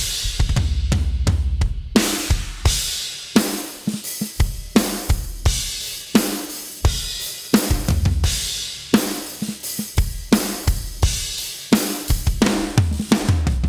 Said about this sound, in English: It sounds like a real drum kit to me.